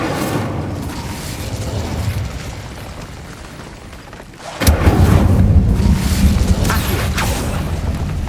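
Incendio fire spell cast in Hogwarts Legacy, burning away spider webs: a roaring rush of flame that fades, then a sudden louder blast of fire that keeps crackling and rumbling close up, with no talking.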